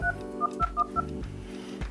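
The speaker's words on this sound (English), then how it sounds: "And from here, I can enter my phone number." Keypad tones from a TCL 20 XE phone as a number is dialed, a quick series of short DTMF beeps in an uneven rhythm, close and alone.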